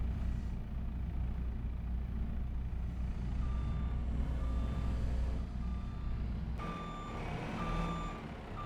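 A truck in a UK-set farming simulator backs up, its steady reversing beeper pulsing in regular tones over a constant low diesel engine rumble, with a brief hiss like an air brake near the end.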